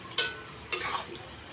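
Two quick bursts of spices hitting hot oil with deep-fried red onions in a pan while desi chicken is cooked, each a short sizzling rush that fades, with faint stirring between.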